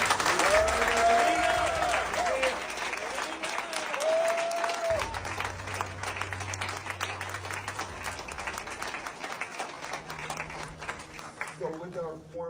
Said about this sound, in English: Can you get a round of applause for